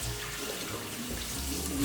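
Water sloshes and rushes in a pot as shrimp are washed by hand, a steady close splashing wash with no voices over it.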